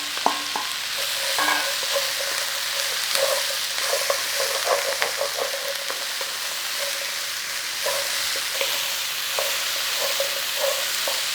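Carrots and celery fry in a pan with a steady sizzle, while a utensil stirs and scrapes across the bottom in irregular knocks for several seconds, close and clear, no talking.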